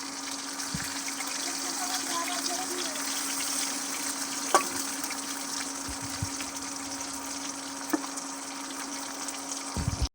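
Pointed gourd pieces frying in a pan give a steady, moderately loud hiss of oil throughout, with a few brief clinks from a utensil and no talk.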